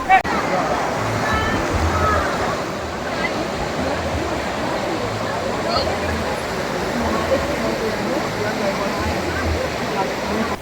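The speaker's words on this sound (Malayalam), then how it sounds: "ഇത് ഇവിടെ ഒരുവന് വെള്ളം ഇങ്ങനെ പ്രഷറിൽ പമ്പ് ചെയ്ത് വിടുന്നുണ്ട്" Water pumped under pressure to bathe elephants at an elephant orphanage in Kandy, Sri Lanka: a steady, loud rushing gush that runs unbroken for the whole span, with talk faintly mixed in.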